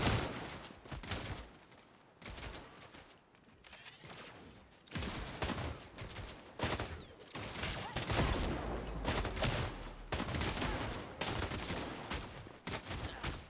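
Grenade launcher fire in the game Predecessor, loud bursts of rapid explosive shots and fusillades in several clusters with brief pauses between, up close and dominating.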